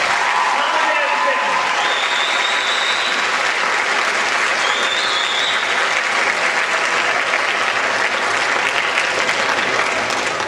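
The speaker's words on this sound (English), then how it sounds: "So let's show your parents how much you appreciate all they have done to help you get to this point in your life. Give them a round of applause." Sustained applause from a graduation ceremony crowd, the class of 2004 clapping for their parents, a dense, steady wash of hands lasting the whole stretch with faint voices and cheers mixed in.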